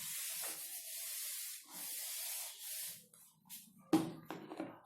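Writing is rubbed off a classroom board during a maths lesson: several short scrubbing swishes, close and fairly loud, then a few scattered dry rubbing strokes and knocks, with no voice over them.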